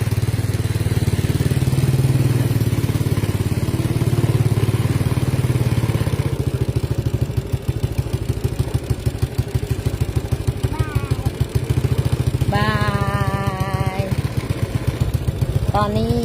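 A motorcycle carries a grandmother and child on an evening ride, its engine a loud steady drone close by with rattling clatter, while voices and a brief high tone come through near the end.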